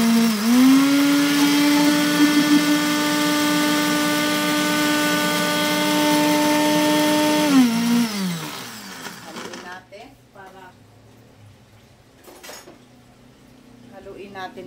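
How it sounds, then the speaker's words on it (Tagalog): A kitchen blender grinds chili flakes in a loud, steady high whir for several seconds, then winds down and stops, leaving quieter clattering and handling sounds afterward. "So yan, atin ang i-blend ang ating chili flakes."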